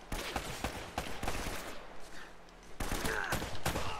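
Gunfire in Uncharted 1, a burst of sharp, loud shots in rapid irregular bursts with brief pauses, close and dominant, with a faint voice underneath.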